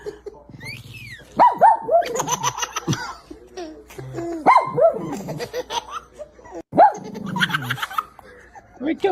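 A dog barks and vocalizes back and forth with a laughing baby, the bursts of barking and giggling trading off at close range, with some voice-like sounds mixed throughout.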